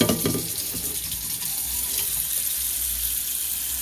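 Tap water pours into a cooking pot being filled for boiling noodles, a steady close hiss and splash throughout with no voices.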